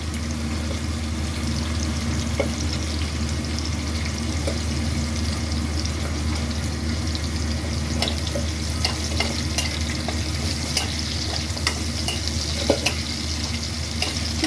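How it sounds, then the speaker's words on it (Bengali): Onion frying in oil with dried red chili and bay leaf, a steady dense sizzle with scattered crackles and pops and occasional stirring scrapes running throughout, fairly close and continuous with no talking. "ওই তেলের মধ্যেই দিলাম শুকনো লঙ্কা, তেজপাতা। ঠিক আছে, এবার একটু পেঁয়াজ দিচ্ছি বন্ধুরা।"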